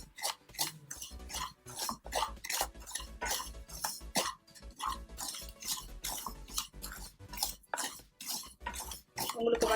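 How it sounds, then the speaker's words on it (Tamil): Semolina (rava) roasting in ghee in a pan for rava kesari, stirred continuously, a busy run of rhythmic metal scrapes and clinks from a spoon against the pan, close and steady. "பேன்லேயே இருக்கிற நெய்யில் நம்ம 1 கப் அளவுக்கு ரவை சேர்த்துக்கலாம்"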